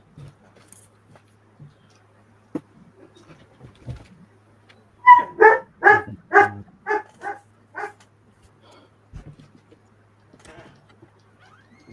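A dog barks in a quick run of about eight sharp, evenly spaced barks at close range, set between stretches of near silence with a few faint knocks and no talk over it.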